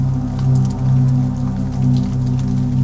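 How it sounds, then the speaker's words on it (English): Gentle rain patters softly and steadily beneath a sustained low musical drone, the drops forming a light, even texture with no talking. "Let the sound of rain guide you."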